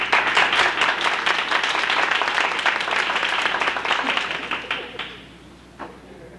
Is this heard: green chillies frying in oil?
no